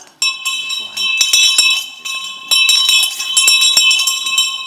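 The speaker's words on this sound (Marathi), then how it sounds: "बाबानो बेल देतोय रे" An electric bell signalling the start of a stage play rings loudly and continuously with a steady metallic buzz, briefly broken by short gaps.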